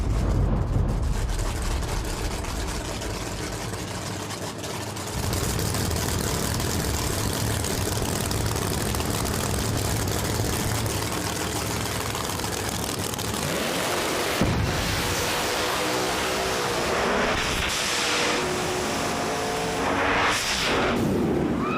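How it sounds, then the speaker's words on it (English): Two street cars launch and race side by side in a drag race, a loud sustained roar of heavy engines with rising and falling pitch, heard from a distance over crowd noise. "That was another great drag race there between both those cars."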